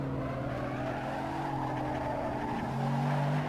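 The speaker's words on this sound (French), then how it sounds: "On quitte la pitlane de Silverstone avec cette FXXK, voiture la plus impressionnante de ce triple pack" Ferrari FXX K race car leaving the Silverstone pit lane in Assetto Corsa, its engine a steady low drone with a slight pitch shift near the end, loud and continuous with no voices.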